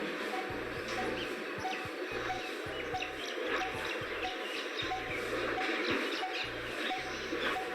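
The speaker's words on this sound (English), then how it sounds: "This is what the bird sounds like." A coppersmith barbet calling with a regular series of low, hollow, evenly spaced notes repeated about twice a second, moderately distant over a bed of faint background chirps and ambient noise.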